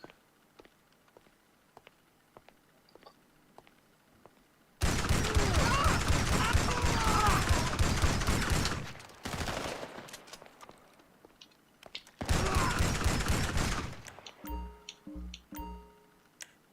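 Bursts of shotgun fire in GTA 5 Online, two loud dense volleys separated by a short lull, followed by quieter clicking and mechanical clatter, with no talking.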